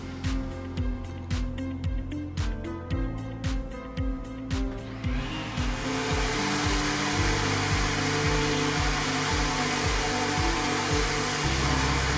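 A rhythmic thumping beat plays at first, then an orbital sander starts on a worktop and drones steadily with a loud broadband hiss until the end.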